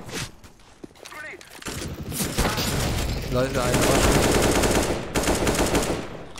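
A decoy grenade imitating gunfire in Counter-Strike: Global Offensive, giving loud, sustained rattling bursts like an automatic rifle for most of the clip, while German voices talk briefly over the shots.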